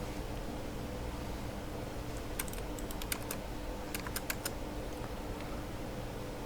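Computer keyboard keys are pressed while working in CAD software, including the F12 key: a handful of sharp, quick clicks in two short clusters over a steady background hiss, with no voices.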